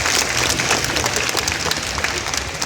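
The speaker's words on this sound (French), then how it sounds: "Faites un tonnerre d'applaudissements." An audience at the Art to Play 2015 convention breaks into applause, a dense and continuous burst of clapping that fills the whole moment at fairly close range.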